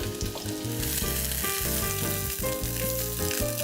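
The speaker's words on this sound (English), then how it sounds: "Let's saute this for a couple of minutes" Pumpkin wedges saute in hot spiced oil, giving a steady, close, loud sizzle with light stirring throughout and no talking.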